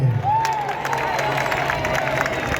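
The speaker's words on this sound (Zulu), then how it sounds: "ngicela sishaye ihlombe kakhulu uNomcebo Zikode" Audience applause and cheering for Nomcebo Zikode at an event, steady clapping and crowd noise with a whistle or shout rising over it, continuing throughout.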